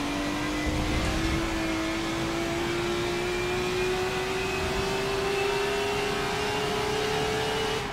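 Racing car in a racing video game at Monza accelerating down the straight, a steady high engine whine rising slowly in pitch, loud and continuous over constant road and wind noise.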